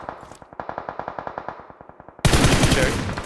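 Rapid automatic gunfire in PUBG Mobile, a steady burst of evenly spaced loud shots for about two seconds, then cut off by a dense, loud wash of noise.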